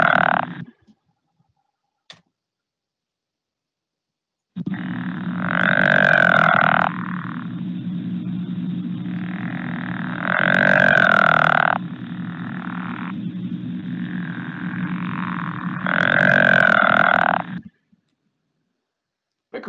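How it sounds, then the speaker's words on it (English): Pickerel frogs in North Carolina give three drawn-out snoring, grating croaks, each lasting about two seconds and spaced evenly apart, over a steady low rumbling hum of other calling frogs, fairly close and clear. "Pickerel frog."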